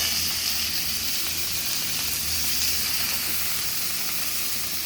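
Cauliflower and potato pieces sizzle steadily as they fry in a pan, a continuous close hiss of moderate loudness without talk.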